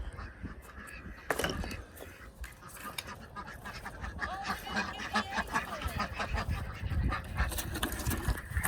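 Farm ducks quacking and honking in a loose, restless chorus, calls overlapping close by over a steady background of yard noise with no speech.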